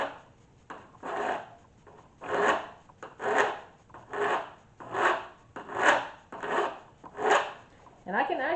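A file rasps along guitar fret ends at an angle to round the edges, in about nine steady, evenly spaced strokes, close and fairly loud with no talk.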